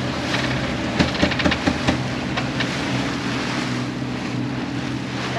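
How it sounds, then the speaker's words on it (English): The sailboat Eriskay heads out to sea, with a steady rush of wind and water against the hull throughout and a few brief knocks and rattles early on. "Sails are set and it's time to head out"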